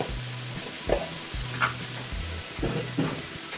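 Cumin seeds go in with fried radish in a hot pan, a soft steady sizzle with a few brief stirring scrapes.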